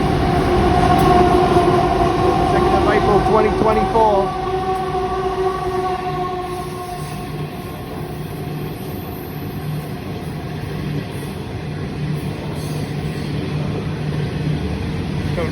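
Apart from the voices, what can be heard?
Southern Shorthaul Railroad coal freight train passing Parramatta Station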